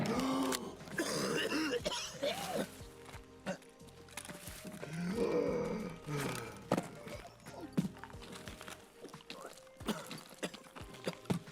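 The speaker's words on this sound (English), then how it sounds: "your character will cough and gargle on his own blood as you limp through the map" A wounded soldier character in Escape from Tarkov coughs and gargles on his own blood while limping across the map. Repeated wet coughs and throat sounds recur through the clip over a busy layer of in-game background noise.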